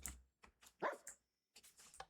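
Minecraft dog barking in a game, several short close bursts over about two seconds with brief gaps, loudest near the middle, no talk.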